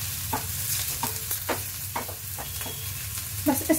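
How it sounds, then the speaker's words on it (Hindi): Onions for a stuffed capsicum filling fry with a steady close sizzle in a pan, broken by repeated scraping stirs of a spoon, with a louder clatter near the end. "प्याज में आप बिल्कुल ज्यादा नहीं भुनना, सिर्फ इसका कच्चापन दूर करना है।"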